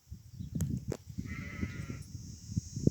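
Goats or sheep bleating at a livestock farm on the slopes of the Kordai mountains, one short faint bleat amid soft rustling and thuds, fairly distant and low in level.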